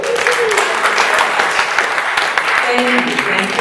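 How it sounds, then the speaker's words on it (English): A congregation at a Sunday spiritual-center service applauds for a featured speaker, sustained dense clapping throughout with faint voices murmuring underneath. "I want to say one more round of applause for Elzia Sekou."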